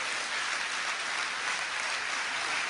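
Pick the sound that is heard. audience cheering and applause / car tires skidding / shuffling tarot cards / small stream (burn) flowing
audience cheering and applause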